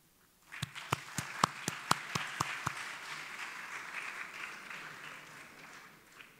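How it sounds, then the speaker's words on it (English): An audience at a school awards ceremony starts with a run of sharp, separate hand claps, then breaks into sustained applause that slowly fades. "So you can have a round of applause for all of you."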